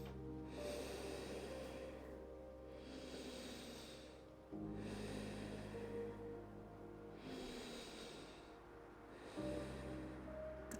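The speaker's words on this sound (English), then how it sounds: "Nice deep breaths." Slow, deep breaths taken during a yoga session, long airy inhales and exhales repeating every few seconds, close and soft, with no talk.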